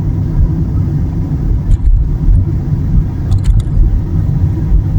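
A car drives along a UK road on a Monday morning, giving a steady loud low engine and tyre rumble with slight swells and a couple of faint clicks.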